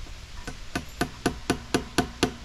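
Hammer driving one-and-a-half-inch barbed galvanized staples into a wooden farm fence post, about nine sharp, evenly spaced close strikes in a steady rhythm, no talking.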